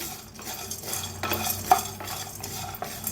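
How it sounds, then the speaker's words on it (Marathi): Sesame seeds dry-roast in a kadhai while a spatula keeps stirring and scraping, making a steady, close rasp with light sizzling and occasional clinks against the pan. "तिळबी तिळ बी हलकंसं भाजून घ्यायचं जास्त भाजू नका"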